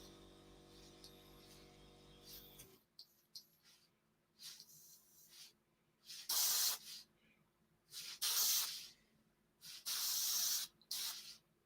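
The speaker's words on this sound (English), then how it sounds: "So let's switch my compressor on." A modelling airbrush with a Mac valve is fed by an air compressor. The compressor's steady hum runs at first, then cuts off, followed by repeated close hissing spray bursts of varying length.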